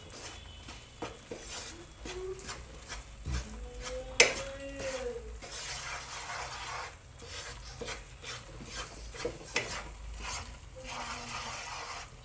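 Gram flour halwa is mashed and stirred with ghee in a pan, giving soft scraping and thudding spatula strokes in an uneven rhythm over a low sizzle, with one louder clank of utensil on metal.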